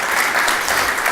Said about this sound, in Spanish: es para aplaudirlos a ellos